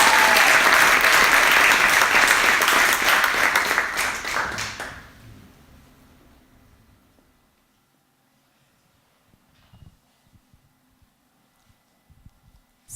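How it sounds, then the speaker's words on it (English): Warm round of applause from a conference audience in Bucharest, dense and loud for about four seconds before fading out to near silence, with a few faint stray sounds afterward. "I'd like to give a warm round of applause"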